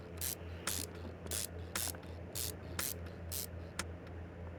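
Bolts driven into a supercharger intake on a Corvette C8 engine in a car mechanic simulator game, heard as a rapid, regular series of short bright ratcheting bursts with no talking.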